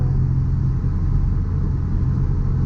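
Nissan 350Z with its muffler cut off and its rear interior gutted, heard from inside the cabin as a steady, loud, deep exhaust drone that holds constant throughout, with no talk over it.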